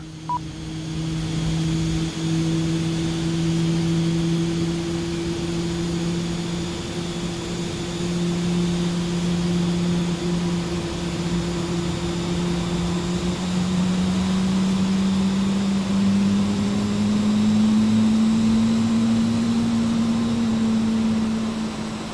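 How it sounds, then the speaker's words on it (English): Airbus A320neo engines spooling up during a start in a flight simulator, a steady loud turbine whine and hum that slowly rises in pitch over about twenty seconds, with no talking. "We have a good engine start."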